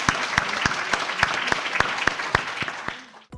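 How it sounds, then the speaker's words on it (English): An audience at a podcast debate on AI regulation claps along, a sharp rhythmic beat of louder claps at regular intervals over a steady bed of applause, fading out at the end. "Round of applause, please"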